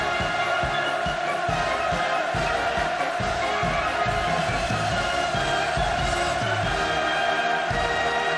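Large crowd at a North Korean military ceremony for a submarine launch cheering enthusiastically, a dense continuous roar of many voices with rhythmic chanting pulses, steady and loud throughout.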